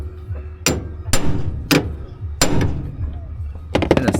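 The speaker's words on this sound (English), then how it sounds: "push it in and you bang it with a hammer" A hammer bangs on a tool pushed onto a car part during a repair, five sharp, loud metallic strikes spaced about half a second to a second apart, ending in a quick rattling flurry of hits.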